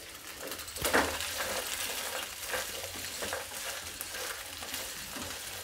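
Carrots, potatoes and peas sautéing in a pan for veg kolhapuri, a soft close sizzle and frying hiss with occasional stirring scrapes and clinks.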